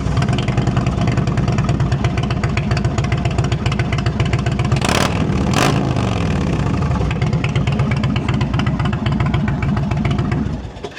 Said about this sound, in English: the 116 with the slip-ons from Tab Performance makes it sound like a dragster